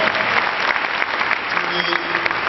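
A town hall audience at a university forum breaks into a sustained, dense round of applause that fills the whole stretch at steady loudness, with faint voices mixed underneath.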